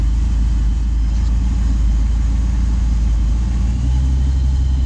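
An LS-swapped engine idles steadily with the air conditioning running at full, giving a continuous low rumble throughout.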